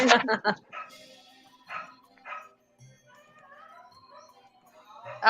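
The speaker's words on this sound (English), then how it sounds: "Dog going crazy out there" An agitated dog barks outside in quick yips and whimpering bursts, fairly close, with pauses between volleys and faint background sounds in the gaps.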